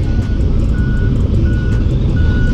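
A truck backs into a tight dirt spot at a freight terminal, its reversing alarm beeping steadily at regular intervals over a constant loud engine rumble and background din.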